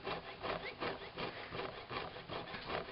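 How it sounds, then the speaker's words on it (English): Jeweler's saw blade cutting through a coil of metal jump rings in a ringer fixture, a rhythmic back-and-forth rasping with about six strokes, close and fairly quiet, with the blade sometimes binding. "as she saws through these, individual jump rings fall out, sometimes binding up"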